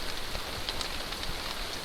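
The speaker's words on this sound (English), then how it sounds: "all the terrible rain I'm having at the moment" Heavy rain falls steadily in the Norwegian wilderness during a wet, windy spell, a dense even hiss of drops close by with no voices.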